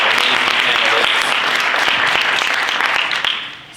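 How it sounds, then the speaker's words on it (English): An audience at a partner convening claps loudly for conference panelists, a dense, sustained wash of applause that tapers off near the end. "Can we give one more round of applause for our amazing panelists?"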